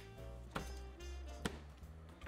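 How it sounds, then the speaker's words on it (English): Two sharp knife chops on a cutting board while onions are cut into large pieces, distinct thuds about a second apart over a low kitchen hum, with a softer tap at the end. "right here I'm just chopping some onions up into large pieces"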